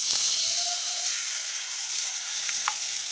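Hot tempering of oil with garlic cloves and curry leaves poured into tomato pickle, a steady bright sizzle and hiss with a few small crackles and pops, no talking.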